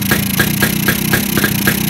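A Brutus/HD3 motorcycle engine runs hard and close during carburetor adjustment. A quick, steady train of loud firing pulses beats over a rough low drone, with no talking.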